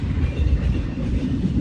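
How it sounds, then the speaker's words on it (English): A freight train hauling empty cargo containers rolls past close by, a loud, continuous low rumble with faint clatter of wheels on rails. "on this train there's a lot of empty cargo containers"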